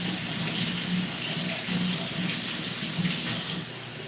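Hot water runs steadily from a kitchen tap in a continuous close splashing rush that holds even for several seconds, then drops slightly in level near the end; no one speaks.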